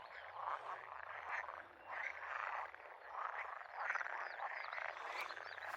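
A dense, continuous chorus of many frogs croaking at a pond, overlapping calls pulsing steadily and loudly with no talking.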